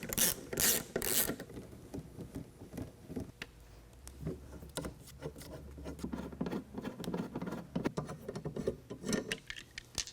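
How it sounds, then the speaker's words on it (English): Ratchet removing Torx bolts from a 2022 Ford Bronco spare tire carrier, with a few loud clicking bursts at first, then steady quieter pawl clicking and light mechanical handling close by. "we're going to remove these Torx bolts that hold the camera housing and side of the spare tire carrier"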